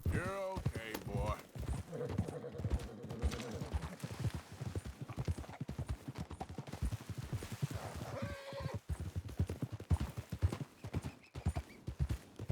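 Horse galloping in Red Dead Redemption 2, steady rapid clip-clop hoofbeats running throughout, with whinnies and snorts and voices talking over the pounding rhythm.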